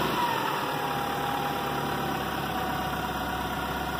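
A 1996 Toyota Camry engine runs steadily at raised RPM during EGR fault troubleshooting, giving a continuous mid-pitched hum and vibration at moderate level, with no talk over it.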